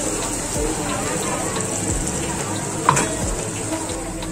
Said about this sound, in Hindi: अभी जो मसाला रेडी की वो ऐड करूंगी इसमें।